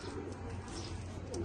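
Pakistani flying pigeon cooing softly at close range, a low steady murmur running the whole moment over faint background hum, with no talk.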